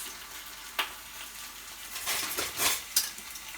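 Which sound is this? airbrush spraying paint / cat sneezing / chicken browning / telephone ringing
chicken browning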